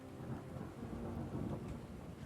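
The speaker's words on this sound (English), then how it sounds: "the hiss of rain and the rumble of thunder" Steady rain hisses throughout while low thunder rumbles continuously underneath, a dense, enveloping storm with no voices.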